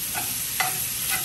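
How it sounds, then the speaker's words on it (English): Spoon scraping and breaking up chorizo in a large cast iron skillet, soft sizzling throughout with a few brief scrapes standing out, close and moderate in level. "you obviously want to start chopping it up with your spoon"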